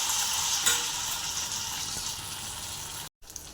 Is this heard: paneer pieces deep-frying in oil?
yes